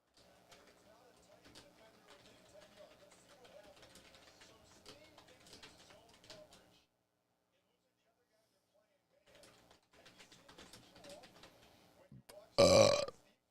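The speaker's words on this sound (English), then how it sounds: "It was a good burp." A single loud, close burp bursts out near the end amid a lively football watch party for a Texans–Titans game, following stretches of chatter and TV commentary.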